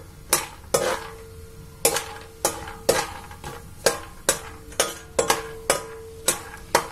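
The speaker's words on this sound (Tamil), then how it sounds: "நிலக்கடலை பருப்பு, அதை கொஞ்சம் வறுத்து வச்சுக்கோங்க" Peanuts lightly roasting in a pan for a spicy puffed-rice snack, with about a dozen evenly spaced scraping stirs and clinks over a soft, steady sizzle, close and moderately loud.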